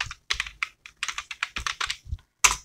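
Computer keyboard typing as a web search is entered: a quick, irregular run of close, crisp key clicks with brief gaps and one harder final tap, and no talk.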